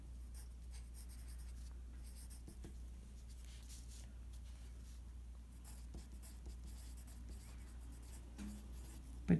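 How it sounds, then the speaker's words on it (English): Faint, continuous scratching of a pen or pencil writing out a sentence by hand for a math word problem, soft strokes over a low steady hum with no talking. "First I'll write my solution sentence."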